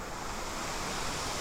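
Rushing water from a waterfall on a Springbrook walking trail roars as a steady, dense, broadband wash, close and unbroken throughout.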